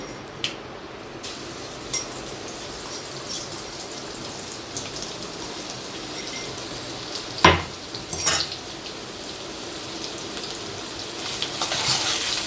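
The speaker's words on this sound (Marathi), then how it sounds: "आता हे आपण कुठून ठेवलेला तो मसाला परतून घ्यायचा आहे" Masala sautéed in a pan gives a low, steady sizzle with sporadic clinks and scrapes of a spatula against the metal, one sharper knock standing out midway.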